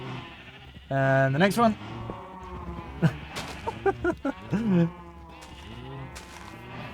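Several sheep bleat in a Minecraft-style game, wavering cries in quick succession and again a few seconds later, close and clear while a person keeps talking over them.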